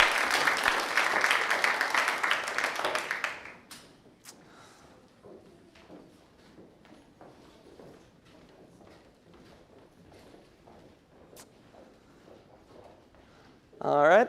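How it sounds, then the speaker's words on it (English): Audience applause at a university Grad Slam event, loud and sustained for about three seconds before cutting off, followed by quiet room noise, soft shuffling and a brief voice at the very end. "let's give them another round of applause"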